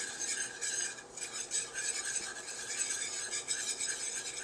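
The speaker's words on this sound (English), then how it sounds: "we're going to whisk that into the butter" A whisk stirs flour into melted butter in a pan to make a roux, a continuous quick, bright scraping and swishing rhythm, close and quiet, with no voices.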